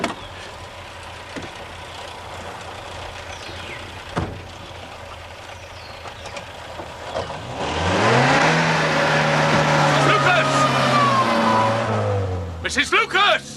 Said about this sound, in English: Stupid bloody woman just drove off